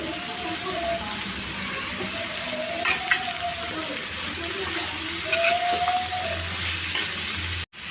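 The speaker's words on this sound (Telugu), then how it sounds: "సొరకాయ ముక్కలు అన్నీ వేసేసి ఒకసారి కలిపేసుకోవాలి" Bottle gourd pieces are stirred through oil in a pan for a Telugu-style curry, giving a steady sizzling hiss throughout with a few soft scrapes of the spoon, close and continuous, no talking.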